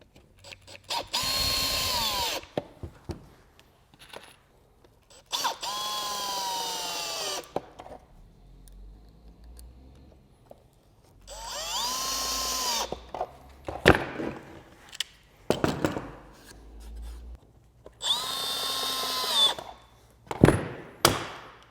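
Power drill driving screws into the pocket holes of a wooden face frame, in four loud whirring bursts of a few seconds each, with quieter clicks and handling knocks between them.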